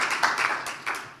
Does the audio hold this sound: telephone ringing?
no